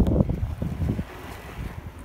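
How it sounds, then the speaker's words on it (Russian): Wind gusts buffet the microphone in low, rumbling bursts at 1200 metres altitude by the Mummelsee, easing into a softer steady rush. "Ветерок продувается тут."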